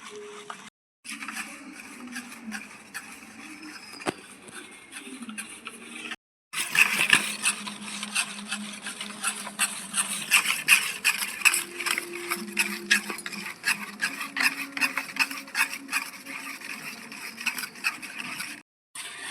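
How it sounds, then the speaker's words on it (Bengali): Steady scraping and clinking of mango pulp being stirred and mixed with cornflour in a bowl for homemade aamsotto, a busy repetitive rhythm that grows livelier after a brief pause, with no talking. "এখন ভালো করে সব আমি মিশিয়ে নিচ্ছি ভালো করে কিন্তু মেশাতে হবে"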